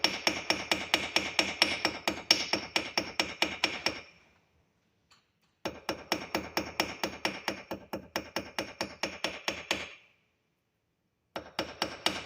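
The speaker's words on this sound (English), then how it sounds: "take the ball peen hammer part." A ball peen hammer strikes a copper pendant in quick, even runs of sharp metallic taps, close up, broken by two short silent pauses between bursts.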